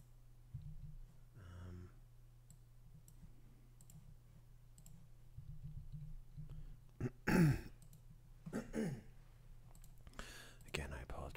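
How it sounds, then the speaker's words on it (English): Close, quiet coughs and throat clearing in an ASMR poster-design session, mixed with soft clicks, a low steady hum, and brief murmuring. "Again, I apologize for all the coughing."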